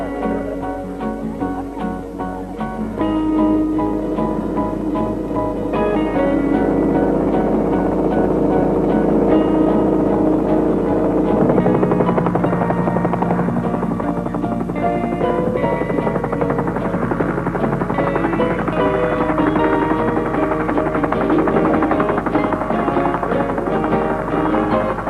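A helicopter flying over jungle during early construction of the Freeport mine in Papua, a loud continuous rotor drone mixed with music throughout.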